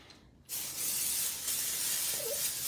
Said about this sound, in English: I have to spray Pixie Spray on the other side